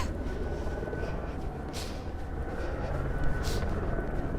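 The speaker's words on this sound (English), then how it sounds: "Helicopter landing." A distant helicopter landing in New York City, a low, steady rumble heard outdoors from far away, faint and continuous under city ambience.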